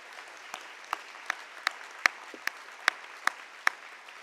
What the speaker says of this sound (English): Please give that an applause.